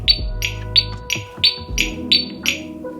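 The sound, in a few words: e-bike turn signal reminder alarm beeping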